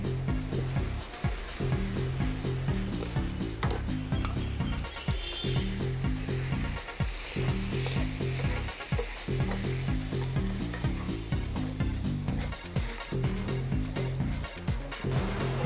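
Gram flour batter sizzles and fries steadily in a hot oil tempering for a chutney, with dense crackling that runs continuously at close range and no speech.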